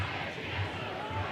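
Capacity crowd of home fans at a Detroit City FC soccer match against LA Force, a steady distant roar of voices in a stadium, continuous and moderately loud with no distinct chants standing out.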